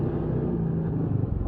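A 2022 CFMoto ZForce 500 UTV engine cruising easily at about 30 mph at low RPM on a trail, a steady close low rumbling drone with no talking.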